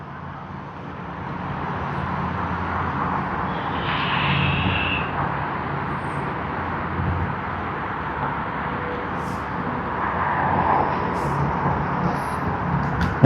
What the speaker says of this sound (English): Alright, the takeoff roll has begun.